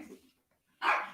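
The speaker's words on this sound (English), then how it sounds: "My dog is just barking" A pet dog barks indoors in one loud, close burst after a quiet pause, with faint murmuring before it.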